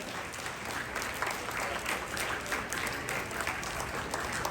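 Steady, dense clapping from an audience fills a Tamil school graduation day in Florida, a continuous wash of many hands with no pauses.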